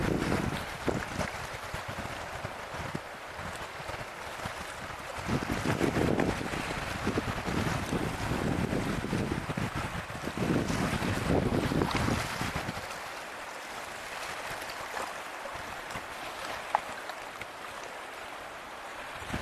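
Swollen Oil Creek surges in January, a loud, rushing roar of churning water that swells and eases in waves, mixed with gusty wind buffeting the microphone.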